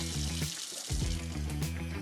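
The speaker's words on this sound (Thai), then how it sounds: "ปล่อยน้ำไหลผ่านนะครับ ประมาณ3สนาทีนะครับ" Tap water runs steadily over a bag of frozen shrimp soaking to thaw in a kitchen, a continuous close splashing flow.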